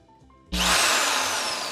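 A power drill starts up abruptly after a few soft clicks and runs at steady high speed with a loud continuous whine, close by in a workshop while building a table saw stand.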